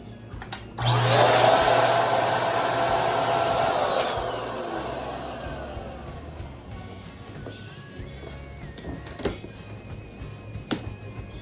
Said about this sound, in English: what I'm using is an electric air pump, so no helium is needed.